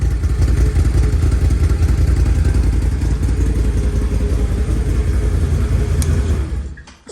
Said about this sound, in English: Even with the stock exhaust, any V-twin's going to sound absolutely amazing.